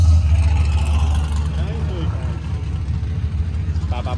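A modified Holden VL fitted with a V8 rumbles deep and heavy at the Summernats car festival, a close, steady low throb with slight rises in revs under loud nearby talking.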